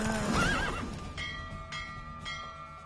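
Roach the horse gives a loud, close whinny after a race in The Witcher 3, then several faint ringing clinks follow against low background ambience.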